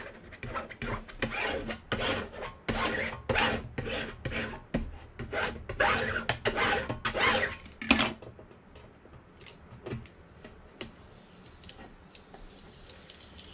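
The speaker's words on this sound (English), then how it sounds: "Let's go ahead and rub it down." An opaque transfer is rubbed down onto a sign with rapid, close, rasping scrapes for about eight seconds, then a few quieter strokes fade into near silence; no one speaks.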